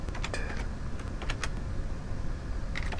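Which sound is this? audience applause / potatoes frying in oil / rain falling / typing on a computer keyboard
typing on a computer keyboard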